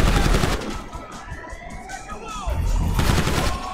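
Rapid automatic gunfire from drones in GTA 5 with the Oblivion Drones Mod, loud bursts at the start and again near the end with a quieter stretch between, plus faint siren-like whines in the background.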